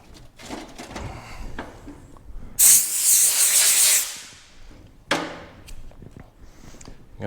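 A short burst of aerosol guide coat is sprayed over a car body panel during dent repair, a bright hiss lasting about a second and a half, followed later by a briefer puff amid quiet workshop noise.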